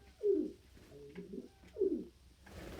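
A pet dove or pigeon coos indoors, two soft close throaty phrases with quieter murmuring between them and no voices.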